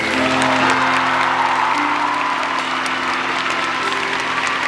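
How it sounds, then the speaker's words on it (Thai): Fans applauding for New at a fan concert, a loud continuous wash of clapping with a few scattered cheers, over a low sustained musical hum in the hall. "ขอเสียงปรบมือให้น้องนิวนะครับ"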